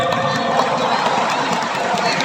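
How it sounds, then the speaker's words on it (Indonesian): A large seminar audience at ICE BSD in Tangerang, Indonesia, claps and cheers in a steady, dense wash of applause that holds at even loudness throughout, with no clear pauses. "Aplaus buat ASBSD dong."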